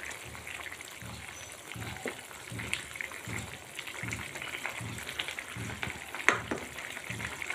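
A spoon stirs and tosses a sizzling shahi suran vegetable dish, made with elephant foot yam, kasuri methi and green chickpeas, in a frying pan. Close, rhythmic scraping strokes sound over a steady frying hiss, with one sharper clink near the end.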